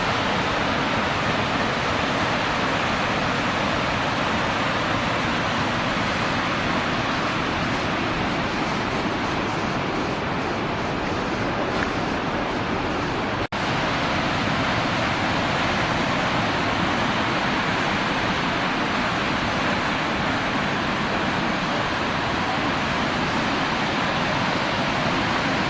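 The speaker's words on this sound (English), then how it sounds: "Love waterfalls." A roadside waterfall in Montana rushes in a steady, dense roar for the whole stretch, close and loud, with no voices over it.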